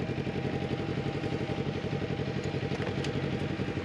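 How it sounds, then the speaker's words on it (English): Ducati Panigale V4S engine roaring steadily on a Pocono Speedway track day, recorded on board with a constant loud, dense mechanical drone and no speech. "Holy fuck, that's a fast motorcycle, dude"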